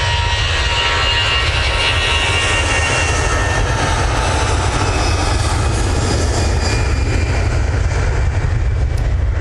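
An EasyJet airliner at Manchester Airport roars with loud, continuous jet engine noise, a broad steady rumble and whine holding evenly throughout with no talking.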